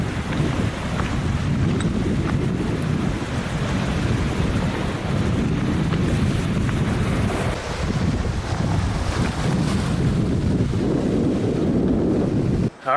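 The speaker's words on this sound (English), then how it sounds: "Really windy out there, so I couldn't like talk or anything because my audio would have been too messed up for you to hear me." Strong coastal wind on a hiking trail on Cayo de Tierra, Vieques, Puerto Rico, roaring and buffeting the microphone in a loud, continuous rumble with gusty swells and surf-like wash throughout, no voices.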